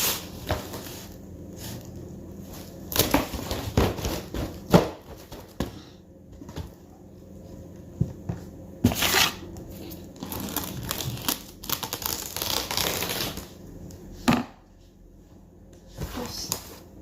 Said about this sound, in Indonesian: Nah sekarang kita wrapping pakai plastik wrap begini.